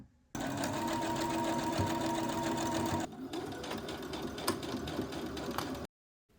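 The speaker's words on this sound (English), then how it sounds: "Okay, so now I'm going to start sewing" A sewing machine stitches crochet trim onto a vintage tablecloth top in a steady, fast whirring run that drops to a lighter, ticking pace partway through, then stops abruptly; it is close and alone.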